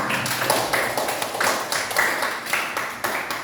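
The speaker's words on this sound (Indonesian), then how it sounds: "tepuk tangan untuk kelompok 2" A classroom audience gives a presenting student group a round of applause, moderate and fairly sparse, with claps coming in loose rhythmic bursts.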